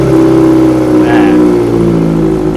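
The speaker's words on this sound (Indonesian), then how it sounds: "itu kita nyalakan dulu mesinnya" A Kawasaki ZX25R four-cylinder motorcycle built as a cafe racer idles loudly and steadily close by, with a brief throttle blip lifting the engine note around the middle before it settles back.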